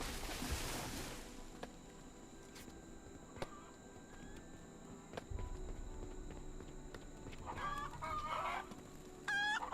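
Chickens cluck in the video game Noble Legacy, where cursed poultry roam a farmyard. Short clucking bursts come near the end over a steady ambient game background with occasional soft thuds and footsteps. No one speaks.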